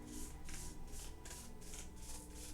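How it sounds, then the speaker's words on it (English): A deck of cards being shuffled by hand during a tarot reading, a series of soft rhythmic riffling bursts repeating roughly every half second, close and quiet with no talking. "you guys get a better view of shuffling from this angle too"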